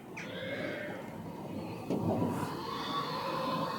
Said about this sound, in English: just got to stop off and listen to this. Some pigs in this barn.